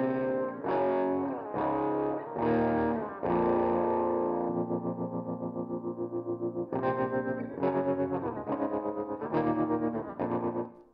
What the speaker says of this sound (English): you get that sort of vibrato tremolo vibe